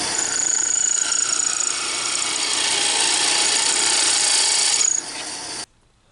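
A high-pitched power tool grinds steadily into wood, cleaning up an undercut on a carved penguin ornament, for about five seconds, loud and close, then drops in level briefly before cutting off.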